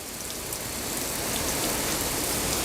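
Water sprays steadily onto a car in a continuous hissing rush, close and fairly loud, with no voices.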